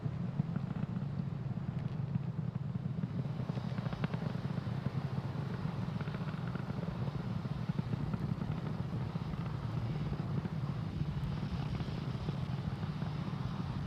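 A Falcon 9 rocket in flight after launch: a steady, low, broad roar with faint crackle, continuous and fairly distant, without talk.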